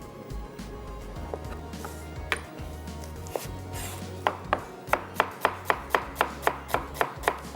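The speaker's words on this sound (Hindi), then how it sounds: "सबसे पहले यहाँ पर प्याज को करेंगे स्लाइस" A knife slices onions on a cutting board for palak gosht pulao: scattered soft cuts first, then a fast even run of about a dozen crisp knocks, close and clear, without any talking.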